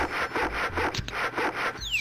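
A sawfish sawing in the video game Goblins 3, heard as a steady rhythmic rasping back-and-forth, about seven strokes in two seconds, loud and close with a brief higher whine near the end.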